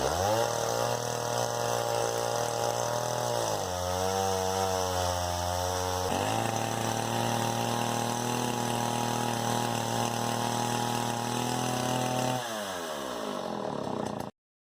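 A chainsaw mill powered by a Husqvarna 395 XP saw runs loud and close, its engine holding a steady high whine with pitch shifts as the bar cuts, then cutting out abruptly at the end.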